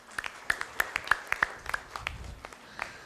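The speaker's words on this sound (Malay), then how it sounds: "Kita bagi tepukan pada semua" Sparse, separate claps from a small audience at a business seminar, a dozen or so distinct hand claps spread irregularly over a quiet room.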